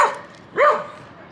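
A dog gives a single yappy bark-whine at a small dog park with many dogs around, preceded by a brief higher yip, fairly close and alone.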